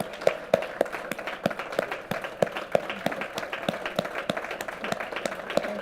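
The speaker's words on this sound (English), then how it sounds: "a massive, massive round of applause for these fantastic women" An audience at a marriage equality campaign Q&A event claps steadily for several seconds, a dense sustained round of applause with sharp individual claps standing out.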